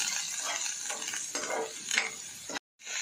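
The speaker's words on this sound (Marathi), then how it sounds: "आता हे सगळं आपण छानपैकी परतवून घेणार आहोत मसाले" Masala stuffing for stuffed pomfret sizzles as it is sautéed in oil, with repeated scraping stirs of a spoon against the pan, close and steady, cutting out briefly near the end.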